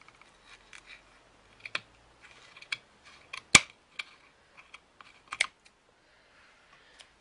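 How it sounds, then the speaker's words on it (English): Scissors snip through fabric on a dress body form in a string of sharp, dry clicks and short cuts, irregularly spaced, quiet and close, with one louder snap midway and no talking. "I'm just going to get my scissors, and then all I'm going to do is to level this"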